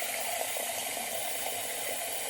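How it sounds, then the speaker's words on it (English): Tap water runs into a sink or basin during a wet shave, a steady, even rushing hiss with no breaks and no voices. "let's fill this back up with water"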